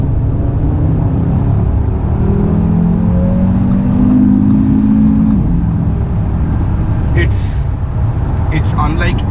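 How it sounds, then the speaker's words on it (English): A 2018 Audi RS3 sedan accelerating in dynamic mode, its engine a loud, steady rumble with rising revs that builds through the middle of the clip, recorded from inside the car. "The sheer, the ferociousness of the acceleration, the sound the car makes"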